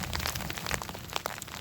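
Light drizzle falling in a dark forest at night, a soft, steady hiss of fine drops pattering evenly on leaves and ground, faint and continuous with no voices.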